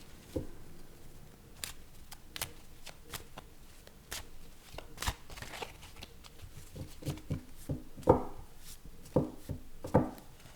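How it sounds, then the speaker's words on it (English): Tarot cards are shuffled repeatedly nearby, a run of crisp flicks, riffles and taps that grows busier toward the end. "Give these cards a good shuffle."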